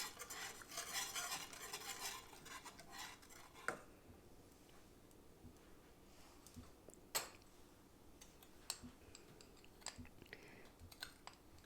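A spoon stirs sweet and sour kadhi ingredients in a pot over a low flame, giving faint, scattered clinks and scrapes against the metal with a soft hiss underneath.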